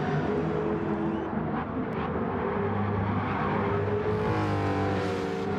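Race cars in a racing video game, a Mustang against an Aston Martin Vantage V8 at Laguna Seca's corkscrew, with engines roaring loud and close, pitch shifting through the corner and a brief tyre squeal, and no talking.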